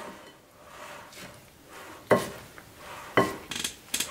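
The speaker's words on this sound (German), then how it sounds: "jetzt tun wir alles schön umrühren." A zucchini and potato fritter batter with flour, parsley and onion is stirred in a bowl, soft wet swishing broken by a few sharp knocks of the spoon against the rim, close and alone without speech.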